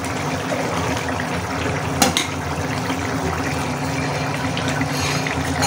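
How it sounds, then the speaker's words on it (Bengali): Hilsa fish curry broth with bottle gourd being poured into a cooking pot, a steady trickling splash of liquid that runs the whole time, with one brief clatter partway through. "আমি একটু পাতলা খাবো তাই একটু ঝোলটা বেশি দেবো"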